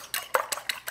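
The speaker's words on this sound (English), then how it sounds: "mix up these 2 eggs, just whisk them up a little bit with a fork" Two eggs whisked with a fork in a bowl for zucchini meatballs, heard as four quick, close, bright taps of metal against the dish in an uneven rhythm, no voices.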